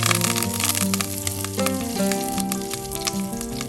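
Cumin seeds, six red chillies and curry leaves sizzle and crackle steadily in hot oil for a tempering, a dense continuous frying hiss with scattered pops, close and fairly loud, no voices.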